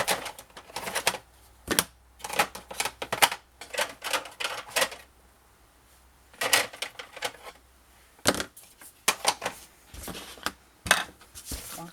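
Ink pad dabbed and pressed repeatedly onto scrapbook paper for a pink Christmas album cover: brisk bursts of close tapping and patting in quick clusters, broken by a few short pauses, with no one talking.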